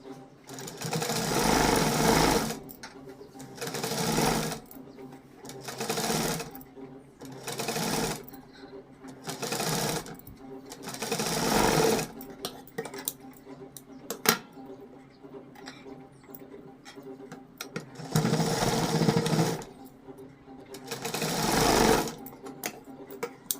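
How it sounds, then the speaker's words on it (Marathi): A sewing machine stitches blouse pieces together in loud, rapid bursts of several seconds each, separated by pauses while someone talks quietly in between. "आणि याच पद्धतीने आता दुसरा पण स्टिच करून घेते"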